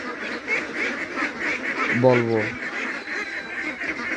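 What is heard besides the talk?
ducks quacking on a duck farm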